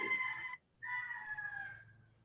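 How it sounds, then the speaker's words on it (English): A rooster crows nearby in one drawn-out call broken into two parts, moderately loud against a quiet background, with no talking. "Boy, that rooster is just going off in your area, Bob."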